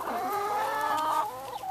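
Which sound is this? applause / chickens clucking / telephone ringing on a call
chickens clucking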